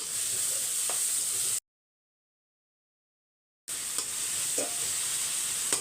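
Onions sauté in oil with mustard seeds, cumin and curry leaves, a close, steady sizzle with stirring scrapes that cuts out completely for about two seconds and then resumes, with no speech.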